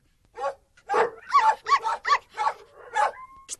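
Cartoon puppies locked in dog cages bark, yip and whimper in a quick run of short high calls, some rising into whines, close and clear with no talk over them.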